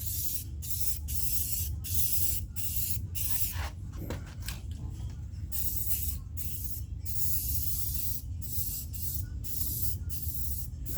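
A spray gun applies a second coat of clear coat on an interior paint job, loud continuous hissing bursts broken by short regular pauses between passes, close and steady throughout.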